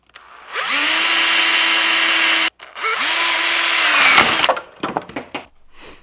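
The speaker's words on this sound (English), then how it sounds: "I'm going to use that 1/4 inch drill 2 holes here" A power drill bores 1/4 inch holes through wood, two sustained whining runs with a short pause between, the second ending in rough grinding and scattered knocks as the bit breaks through.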